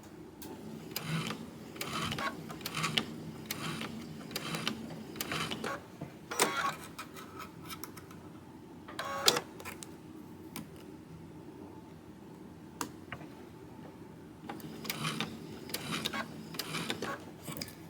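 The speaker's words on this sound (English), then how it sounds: "I'm going to go ahead and go forward until my needle tacks down this part of the binding." Sewing machine stitching through quilt binding in bursts of rapid mechanical ticking, with short pauses and a few louder clicks between runs, moderately close and fairly quiet; no speech.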